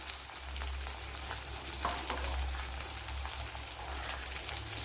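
Gooseberries and a small piece of ginger go into a hot pan and sizzle steadily and loudly, a continuous crackling hiss with no talk over it.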